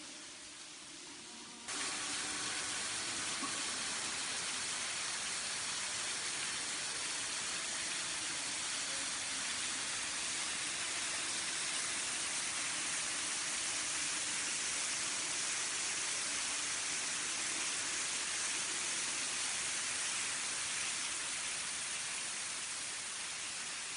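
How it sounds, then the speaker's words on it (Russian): Underground waterfalls pour from the vaults of New Athos Cave, a steady broadband roar of falling water that starts after a quiet opening and holds loud and unbroken throughout, echoing in the cavern. "Вода, скапливаясь на поверхности, через тысячи щелей проникает под землю и обрушивается со сводов десятками водопадов."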